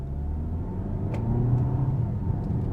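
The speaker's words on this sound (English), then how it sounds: "I've just come up to an imaginary stop sign and I'm just pushing on the throttle" A 2023 Citroen C5 Aircross SUV pulling away at about half throttle, a steady low engine rumble heard from inside the cabin, constant and moderately loud.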